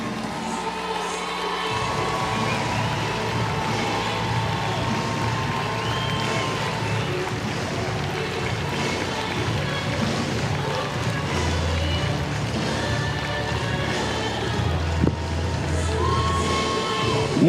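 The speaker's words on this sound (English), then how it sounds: "please join me in a huge round of applause for Jim and Iris" A big stadium crowd at a Banana Ball baseball game cheers and claps in a long, roaring swell, with shouts and whoops rising out of the din and an amplified low hum running beneath.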